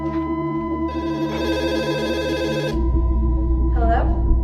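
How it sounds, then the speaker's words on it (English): A phone rings during dinner at home, a steady run of repeated electronic ring pulses lasting a couple of seconds before cutting off, after which a louder low rumble takes over. "Just as we start dinner, my phone rings."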